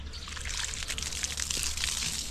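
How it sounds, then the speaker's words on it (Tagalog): Water poured over eggplant and vegetable beds in a backyard garden, a steady close splashing trickle that runs unbroken without any talk. "Lipat natin sa mangga yung tubig para hindi ma-over yung ating talong."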